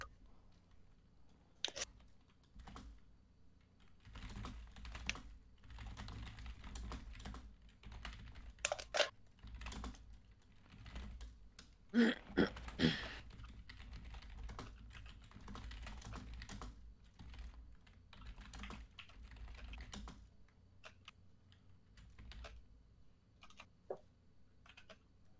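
Steady bursts of close-up typing on a mechanical computer keyboard, crisp clicky keystrokes coming in quick runs with short pauses, mostly alone with little talk.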